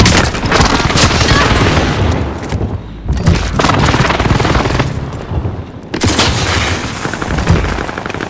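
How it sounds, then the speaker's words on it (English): In a video game, an allied precision airstrike pounds the area with a dense run of loud explosions and rapid gunfire-like blasts, near and continuous with brief lulls, the barrage lasting several seconds. "Allied precision airstrike incoming"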